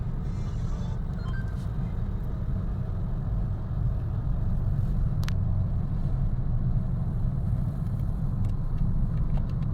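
Steady low rumble of congested traffic on Nawamin Road, cars and buses idling and creeping along in a jam, with a faint brief hiss midway and no clear voices.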